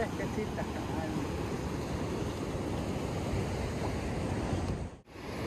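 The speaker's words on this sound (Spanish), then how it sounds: "Y miren, allá hay olas." Ocean surf at Playas Blancas beach, a steady, dense wash of breaking waves with wind noise across the whole stretch, loud and continuous, briefly dipping near the end.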